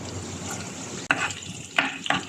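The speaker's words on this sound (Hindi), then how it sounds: "अब हम इसको थोड़ा फ्राई करेंगे 1 मिनट तक।" Chopped garlic and sliced green chilies frying in hot oil: a soft, steady sizzle close by, broken by a few sharp stirring clicks and scrapes, with no talk.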